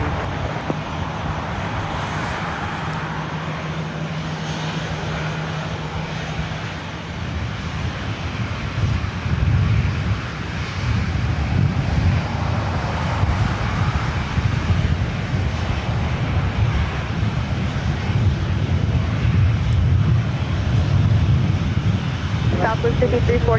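Jet aircraft engines at LAX airport, a broad continuous roar that swells louder midway as a plane passes near, with air traffic radio voices heard early on.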